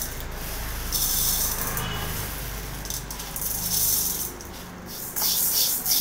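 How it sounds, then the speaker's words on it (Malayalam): Washed lentils for a Kerala-style parippu curry go into an iron pan, giving a continuous close gritty scraping and rasping as they shift and rub against the metal, with no talking. "അതിലേക്ക് നമ്മൾ കഴുകി വൃത്തിയാക്കി വെച്ചിരിക്കുന്ന പരിപ്പ് അതിലേക്ക് ഇട്ട് കൊടുക്കണം."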